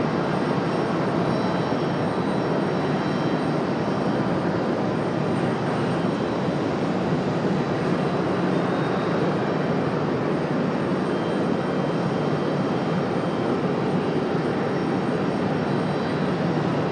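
An airliner at Raleigh Durham International Airport, a loud, steady broadband engine roar that holds constant throughout, close and unbroken with no voices.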